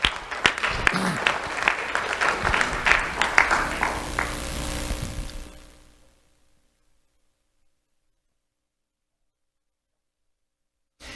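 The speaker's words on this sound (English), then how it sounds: "Let's have a round of applause for Mason Garcia." An audience at a sheriff's office awards ceremony applauds a student, with several sharp claps over a steady wash of clapping that fades out after about six seconds into silence.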